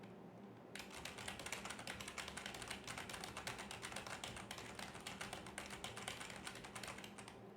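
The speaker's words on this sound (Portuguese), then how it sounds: "Eu vou fazer o barulho agora do teclado, né? Vamos teclar um pouquinho." Rapid, continuous clicking of a computer keyboard being typed on, close and fairly quiet, starting after a brief pause and keeping a steady rhythm.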